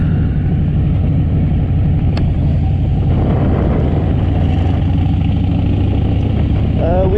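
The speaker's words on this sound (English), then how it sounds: "we are going to drive the loop, do the little motor tour" A car drives the motor tour loop at Wilson's Creek National Battlefield in Missouri, its engine and road rumble a steady, loud low drone throughout with no pauses.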